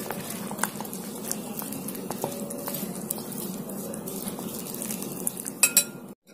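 A spoon clinks and scrapes steadily against a bowl while mixing a cornflour, flour and water paste, with quick repeated taps and stirring patter, close up and without talk.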